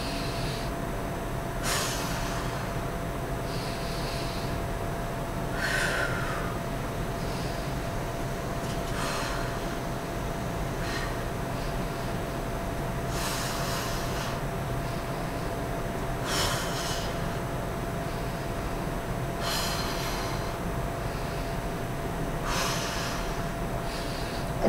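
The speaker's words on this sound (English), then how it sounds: "we're going to do slow breaths, like 5 seconds" Slow, deep Pilates lateral breathing, each breath drawn over about five seconds, heard as evenly spaced, close, airy breaths over a steady background hiss with no talking.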